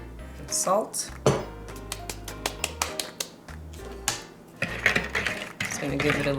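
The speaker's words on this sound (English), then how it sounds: "Just gonna give it a little stir." A utensil stirring yeast, sugar, water and salt in a bowl, a run of sharp clinks and scrapes against the bowl in an irregular rhythm, close and clear, with a brief voice over it.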